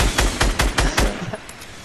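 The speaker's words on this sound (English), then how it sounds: "Shoot the RPGs and I'll shoot the wall" Rapid gunfire in Fortnite: five loud, evenly spaced shots in quick succession, followed by a couple of fainter pops as it fades.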